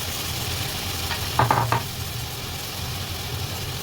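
Shrimp sizzle steadily in a hot pan, a constant frying hiss with a brief cluster of scraping stirs in the middle, close and fairly loud.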